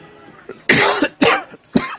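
A person coughs repeatedly in a close, harsh fit of about four rough bursts in quick succession.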